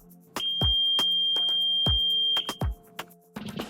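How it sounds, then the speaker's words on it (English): A steady high electronic tone from a Garmin boat man-overboard alarm buzzer sounds continuously for about two seconds, interrupted by sharp clicks and thumps, then cuts off. "The buzzer will also sound a loud alert."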